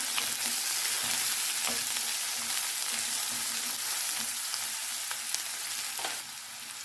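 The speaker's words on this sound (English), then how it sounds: "cook till the onions are light brown in color" Chopped onion and green chilies frying in a pan with a bit of salt for green moong dal, a dense steady sizzle with occasional light stirring clicks, close and unaccompanied by speech.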